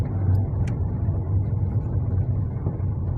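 Steady low car engine rumble inside a vehicle on a driving-school practice course, holding a constant drone with no clear rise in revs, alone without talk.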